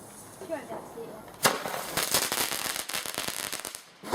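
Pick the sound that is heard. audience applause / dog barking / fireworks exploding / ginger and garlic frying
fireworks exploding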